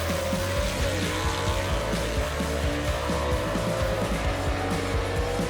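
Drag race between a 1966 Chevy II and a 1948 Anglia gasser, with loud, continuous engine roar and repeated rising revs as the cars accelerate hard down the strip, close and dominant.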